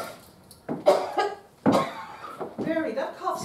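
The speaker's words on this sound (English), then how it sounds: "that cough's getting a lot worse" Several harsh coughs from a woman with a worsening cough, a pair near the start and another burst midway, followed by a wheezy, voiced breathy tail; close and fairly loud.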